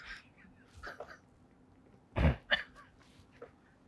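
A single sharp cough stands out amid quiet, faint breathy sounds, followed by a smaller throat noise.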